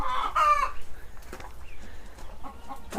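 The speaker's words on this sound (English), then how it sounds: "the chickens are making my favourite noise" Backyard chickens cluck loudly and close by, one hen giving a drawn-out egg-laying call followed by a run of shorter clucks.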